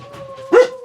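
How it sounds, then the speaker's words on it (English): A couple of dogs bark from somewhere nearby, a short burst sounding once over a steady electronic hum indoors. "that was a couple of my dogs"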